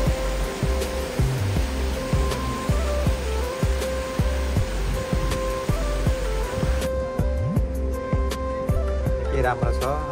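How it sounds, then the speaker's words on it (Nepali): Water from a small fountain falls from above with a steady rushing wash. Repeated clicks and bumps from nearby handling run over it, and the texture thins toward the end. "झरना बनाइएको, झरना हो यो सानो, माथिदेखि पानी"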